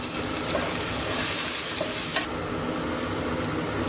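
Tomato sautéing in hot oil with spices for an eggplant curry gives a constant close sizzle and fry, with faint stirring scrapes and no talking.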